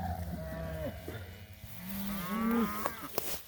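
Cattle low repeatedly in an open pasture on a cool morning, a run of drawn-out moos from several animals at varying distances.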